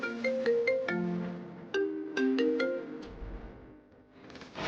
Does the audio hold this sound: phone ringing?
yes